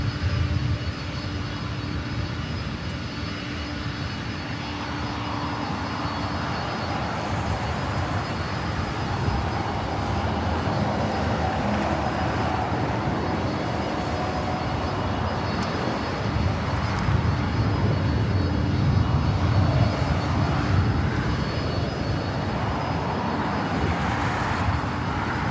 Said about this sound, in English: Our next arrival is Delta Airlines flight 2975, coming from Portland to Oregon, in the Northwest A320.